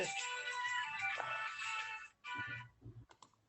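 A mobile phone ringtone plays as a loud, steady electronic tone for about two seconds before being cut off, followed by a few faint clicks and brief rustling, with no talk.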